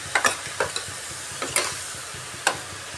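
Cucumber cooking in a pan as it releases water, a quiet wet sizzle with several soft scattered stirring knocks and scrapes, close with no voices.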